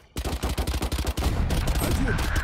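A video game gun fires a rapid burst, emptying a full magazine in about a second of fast, evenly spaced, loud cracks, followed by a denser wash of shooting and game noise.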